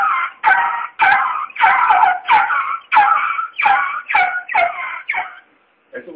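A keyboard imitates a dog, producing a rapid series of about ten short yelping barks in a steady rhythm, loud and close.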